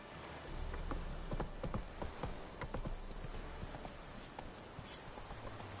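Hooves of Roach, a horse in a PS4 video game, clip-clop in a steady walking rhythm, clear and close, over faint background ambience.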